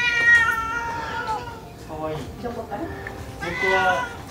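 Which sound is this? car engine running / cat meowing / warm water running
cat meowing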